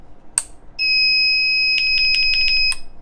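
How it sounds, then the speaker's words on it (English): A loud, steady electronic buzzer tone sounds continuously for a couple of seconds, with a sharp beep just before it and rapid clicking chirps layered on top. "That's the buzzer."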